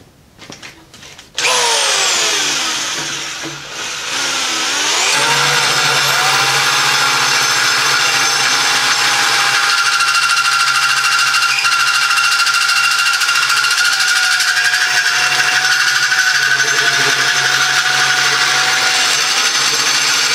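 A tube bender bends a steel T-post, producing a loud continuous mechanical whine and grinding drone that starts after a brief clatter and holds steadily to the end.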